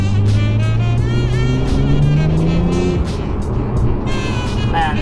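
A BMW 1M with a twin-turbo N54 engine pulls hard, heard loud from inside the cabin, its revs rising through a gear, easing briefly, then climbing again under steady engine roar.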